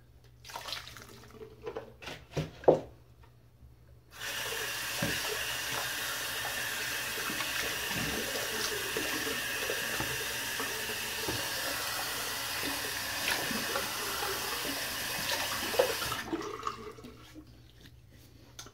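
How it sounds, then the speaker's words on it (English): Water from a tap running into a sink to empty out a mug, a steady close rush lasting about twelve seconds after a few clinks and knocks, then stopping. "Empty my mug out."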